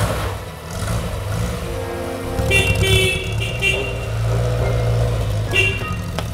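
A car pulls away with engine revving and brief horn toots over a steady low rumble, close and fairly loud, with faint voices underneath.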